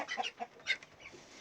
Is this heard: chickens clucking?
yes